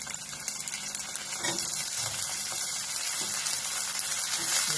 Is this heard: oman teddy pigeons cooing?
no